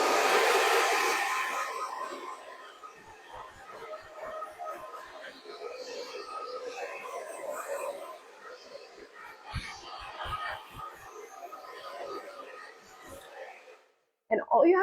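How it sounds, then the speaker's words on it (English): A hair dryer blows close up on long hair being styled, loud at first, then fading to a softer steady rush and cutting out briefly near the end before returning. "make sure that you're blow drying it back and forth across the grains of the hair"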